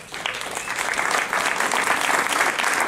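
An audience bursts into sustained, even applause, a dense steady wash of many hands clapping close by with no voices on top, lasting the full stretch.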